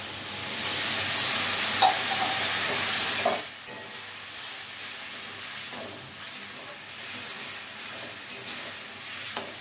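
A little water goes into a pan of sizzling niramish alur dum, potatoes with fried spice masala. A loud hissing sizzle dies down after a few seconds into a quieter simmer with soft stirring clicks.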